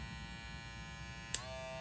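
Electric shaver buzzing steadily at its high speed setting, a constant close hum with a brief click near the end, no talking.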